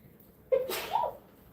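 A single short sneeze, sharp and close, in an otherwise quiet setting.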